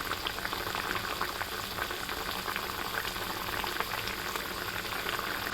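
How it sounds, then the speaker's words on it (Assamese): Tomato sour fish curry boils hard in a pot, a dense, steady bubbling and crackling that stays loud and even throughout with no voices. "এতিয়া মোৰ চাওকচোন বিলাহী টেঙাখন কেনেকৈ ভোককৈ উতলিবলৈ ধৰিছে"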